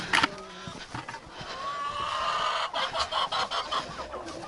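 Hens being fed oats cluck and squawk in a busy farmyard coop, with one loud call at the start and then a run of rhythmic clucks, fairly close, with no talking.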